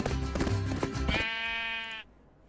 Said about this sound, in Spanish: estas ovejas me dan demasiado miedo